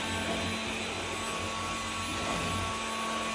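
A household vacuum cleaner running indoors, a constant whining drone with steady tonal hum, unbroken for the whole stretch and free of speech.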